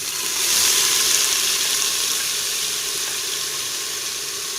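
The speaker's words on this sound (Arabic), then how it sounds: "نضع كمية ملعقة إلى ملعقتين من الزيت، ثم نضع بعد ذلك البصل" Onion fries in oil in a pan with a steady, bright hissing sizzle that swells at the start and then holds evenly, with no voices.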